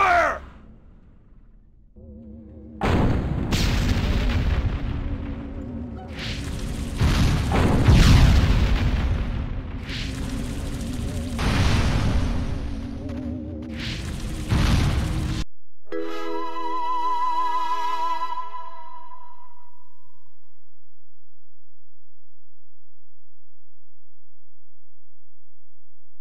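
Gunfire and explosions from the video game Destroy All Humans, with heavy booms and a dense rumble of blasts close up for several seconds, then an abrupt cut to a fading tonal hum.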